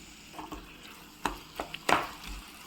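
Small chopped tomato pieces fry in oil with onions in a pan over a medium flame for a spicy egg curry: a faint hiss with a few sharp spatula scrapes and stirring clatters, close and sparse.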